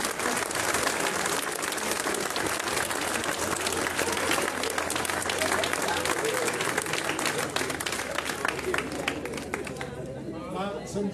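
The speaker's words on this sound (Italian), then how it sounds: "vi prego di fare un applauso a zia Cina" Applause for an aunt at a 50th-anniversary celebration of the Bar del Sole in Mussomeli: a dense, steady wash of clapping from a crowd, loud and sustained throughout, with chatter and voices mixed in, thinning slightly near the end.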